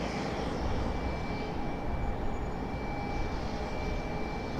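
A jet airliner taxis near the terminal at Raleigh-Durham International Airport at sunrise, its steady engine roar and broadband rumble holding constant and fairly loud throughout, with a faint high whine.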